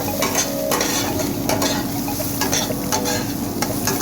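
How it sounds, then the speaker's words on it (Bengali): Onion and panch phoron are stirred in hot oil left over from frying okra. A loud, constant sizzle fills the clip, with repeated scraping and clinking of the spatula against the pan. "ভালোভাবে নেড়ে নিতে হবে মশলাটাকে, পেঁয়াজ"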